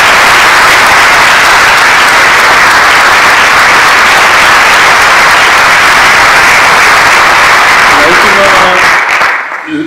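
Loud, sustained audience applause at a circular-economy conference welcome session, a dense wash of clapping that holds steady for nearly ten seconds before cutting off abruptly at the end.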